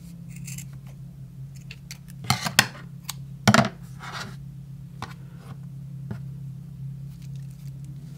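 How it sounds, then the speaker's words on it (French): Scissors snipping through the cord of a handmade summer keychain, a few distinct close crisp cuts over a steady low hum in a quiet room. "Je vais couper un peu, c'est quand même un petit peu long."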